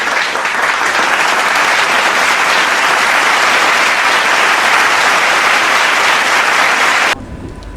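Loud, sustained applause from a large audience at a film festival award night, a thick steady roar of clapping that runs for several seconds and then cuts off abruptly.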